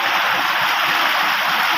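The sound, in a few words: flowing stream water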